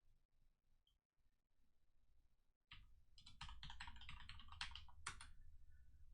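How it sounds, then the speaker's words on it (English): Typing on a computer keyboard while signing in to a work computer: a quiet, rapid run of close key clicks rising to a dense patter in the second half, with no talk. "See if you can figure it out just by my keystrokes"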